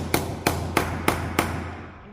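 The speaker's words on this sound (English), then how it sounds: "I'm gonna kind of whack it with the hammer" A hammer whacks a test strip to press a groove into it: five sharp, evenly spaced strikes, close and loud, each ringing briefly, with no talking.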